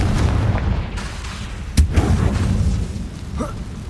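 Confringo blasting spell from the wizarding game Hogwarts Legacy, a sharp explosive crack near the middle over rumbling combat noise, followed by a fainter sizzling burst.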